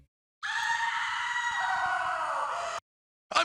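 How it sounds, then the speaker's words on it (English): A woman's long, shrill scream rings out in a PS1 survival horror game, one sustained piercing cry lasting over two seconds after a brief silence, then cut off, with a short burst of another sound at the very end. "We'll once again hear someone screaming,"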